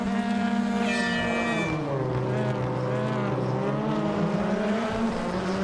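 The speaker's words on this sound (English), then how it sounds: "nice wheel spin off the line" A race car revs hard off the start line in rFactor 2, the engine note rising and sweeping through harmonics as the wheels spin, loud and close from an external camera with a brief high squeal early on.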